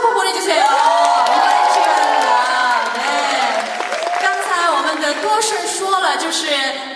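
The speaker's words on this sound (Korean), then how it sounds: "박수" Studio audience at a Tencent talk event with the K-pop group SISTAR bursts into loud applause and cheering with whoops, a dense crowd roar sustained for several seconds, voices rising over it.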